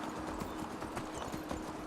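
Horse hooves clip-clop in a steady trot while riding in the fantasy game Enderal, a fairly continuous close rhythm over a busy ambient bed with no talking.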